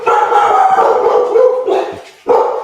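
A Malinois puppy barks and yelps in a continuous, excited run of loud, high, close barks indoors, with a brief pause before another burst.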